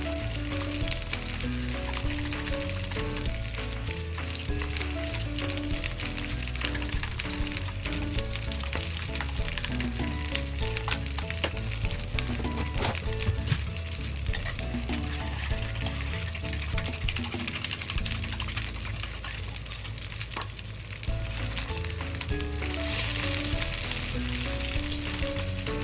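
Yellowtail fillet frying skin-side down in a pan, a steady broadband sizzle that runs the whole time beneath sustained tonal background music.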